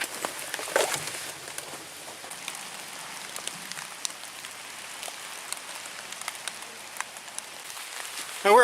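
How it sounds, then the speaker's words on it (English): Steady, soft rain falls during a fall backpacking trip in Michigan's Porcupine Mountains, with scattered drops pattering close by against a quiet background. "as you can tell, it's raining out"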